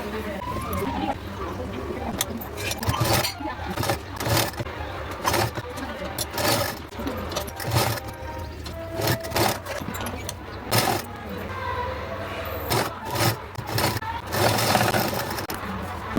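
A sewing machine stitches blouse fabric in quick bursts, whirring on and off in short runs close by, with a voice talking over it.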